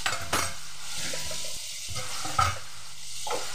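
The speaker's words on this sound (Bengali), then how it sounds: "ওই একই তেলের মধ্যে ডিমো করে কেটে রাখা আলুগুলো লাল করে ভেজে নিচ্ছি।" Diced potatoes frying in hot oil in a pan, a steady close sizzle with occasional stirring scrapes and light utensil knocks, no voices.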